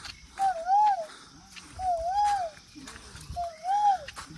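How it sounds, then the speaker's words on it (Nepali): A bird calls in a forest in three repeated rising-and-falling whistled phrases about a second apart, clear and fairly close over a quiet background. "चरा कराइरहेको छ"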